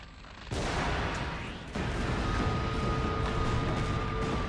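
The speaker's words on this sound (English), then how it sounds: "So now he's firing a lit flaming arrow into a cannon." Cannon blast set off by a lit flaming arrow in the video game Okami HD: a sudden loud boom at the start, then a second heavy burst that settles into a sustained roaring, crackling rumble.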